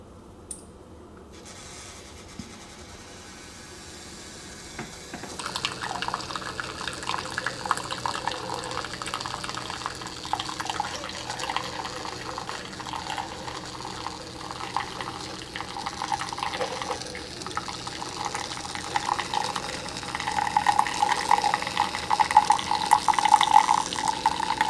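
A Keurig K Mini Go coffee maker brews a cup, starting with a quiet hum before a steady stream of water pours and splashes continuously, moderately loud and close, with a thin gurgle rising near the end.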